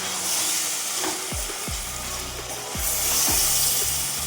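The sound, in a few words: chicken frying with onions in a pan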